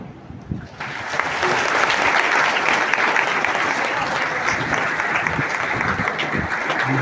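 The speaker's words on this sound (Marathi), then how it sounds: "जोरदार टाळ्यांचा गजर झाला पाहिजे" A hall audience breaks into sustained, loud applause at a Marathi public speech event, starting after a brief pause and holding evenly dense for several seconds with no talking over it.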